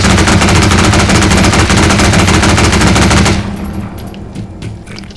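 An automatic weapon in the zombie game Garry's Mod fires a loud, continuous rapid burst for about three seconds, then stops abruptly, leaving quieter game ambience.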